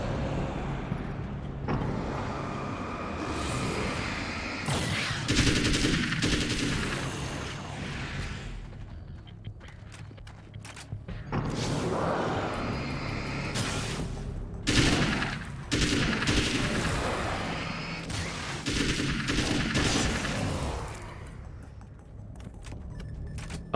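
Repeated bursts of gunfire in Alan Wake's American Nightmare, loud and close, firing in rapid clusters with short pauses across a busy, noisy combat scene.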